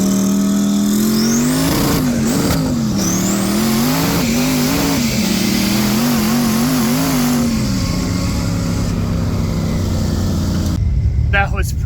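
A 1500 hp BMW-powered Exokart roars at full throttle in a roll race at an ice cream cruise-in, its engine note rising and falling through gear changes, loud and close throughout before easing off near the end.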